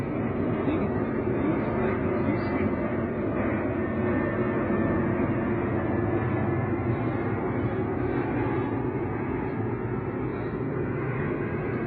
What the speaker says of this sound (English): There's an airplane about to go over it.